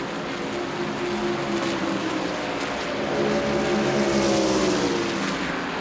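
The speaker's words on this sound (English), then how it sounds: "now it sounds more like a conventional stock car" A 1995 NASCAR Winston Cup stock car on a conventional exhaust roars past at Atlanta Motor Speedway, a steady loud engine drone with a rising then falling pitch sweep as it goes by, under continuous crowd and track noise.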